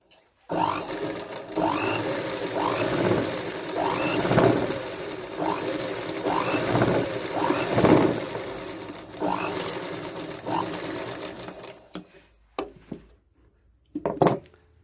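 A sewing machine stitches in rhythmic bursts after its thread tension has been tightened, a close, steady mechanical whir with regular pulsing, pausing near the end for a few short clicks.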